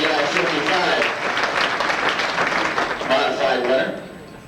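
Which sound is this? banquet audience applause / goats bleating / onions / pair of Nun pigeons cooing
banquet audience applause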